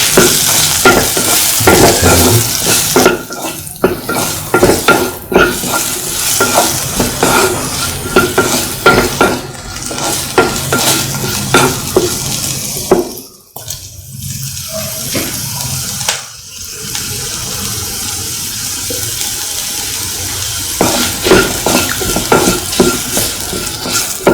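Snake gourd curry with capsicum sizzles in a pan while a spoon stirs it, giving a continuous frying hiss with frequent scraping strokes and a brief pause in the middle.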